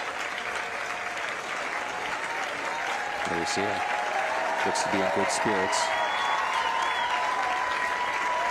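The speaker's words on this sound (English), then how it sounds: "We'll get another round of applause here." A football crowd at a Friday night high school game between Aquinas and McQuaid applauds in a steady, loud roar of clapping and cheering, sustained for the whole stretch, with a commentator talking over it and a few whistle-like tones above.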